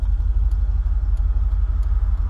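Cars creeping slowly along a road beside a commercial property, a loud, close, low engine rumble pulsing steadily throughout with no talk.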